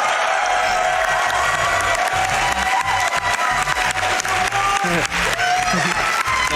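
A large crowd at a live speedrun charity marathon event applauds and cheers, loud sustained clapping with whoops and shouts filling the space continuously.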